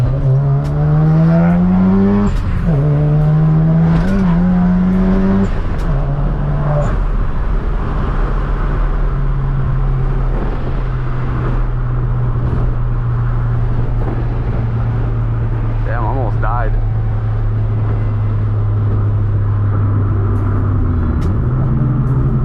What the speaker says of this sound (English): I haven't been able to go wide open throttle in a while.